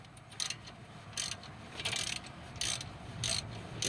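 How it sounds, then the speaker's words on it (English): A 15mm ratchet socket clicks as it tightens a brake caliper bolt on a Pontiac G6, giving short bursts of ratcheting spaced across the clip, close and moderately loud over a low background hum. "You get your 15mm ratchet socket out."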